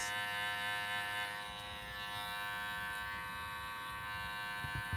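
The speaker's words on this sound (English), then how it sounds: "Stretching the skin to help with the clipper cut better." Electric hair clippers buzz steadily and close up while trimming a boy's hair, a constant hum that dips slightly as the blade works through the hair.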